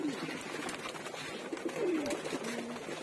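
Large pigeons in a loft cooing, several soft, low rolling coos rising over a constant background hiss, with no talking.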